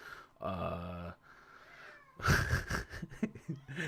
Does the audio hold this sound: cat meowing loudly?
yes